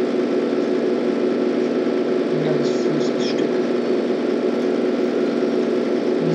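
Steady drone of a tractor engine in the farming video game Landwirtschafts-Simulator 13, continuous and even throughout, with someone speaking over it.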